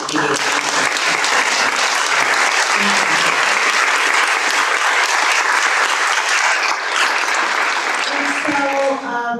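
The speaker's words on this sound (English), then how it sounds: "I think we just need to give them a round of applause" A town hall audience for police chief candidates breaks into loud, sustained applause that fills the room nonstop and fades near the end, with voices mixed in.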